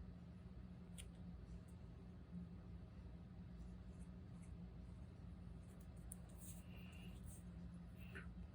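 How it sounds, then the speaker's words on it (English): A fountain pen loaded with Colorverse Project ink 009 α Boo scratches softly across paper, forming letters with faint, steady strokes and small ticks over a constant low room hum. "I got to work on writing that lowercase a"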